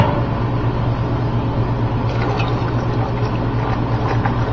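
Water is poured into a pot of homemade hot beans (burbonso) to make the gravy, giving a steady, fairly loud rushing and bubbling liquid sound that continues without pause from start to end.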